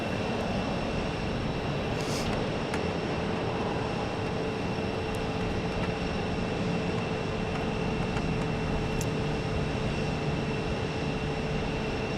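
A passenger airplane landing at Phoenix airport gives off a steady, fairly distant engine roar that holds evenly throughout, with a faint high whine and no nearby talk.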